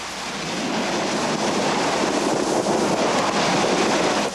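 Lava lake at Kilauea's Kupaianaha vent, gases bursting at the surface with a steady, dense roar of splashing and spattering, loud and continuous with no voices.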